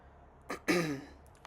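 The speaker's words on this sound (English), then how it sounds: "I'm clearing my throat so much" A person clears their throat close by, a short rough grunt followed by a longer raspy hack, then quiet.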